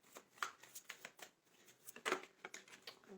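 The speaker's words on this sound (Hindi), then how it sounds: "We're picking 5 more cards here." Playing cards are picked out and arranged by hand, producing faint, close, irregular flicks and soft slaps in quick succession.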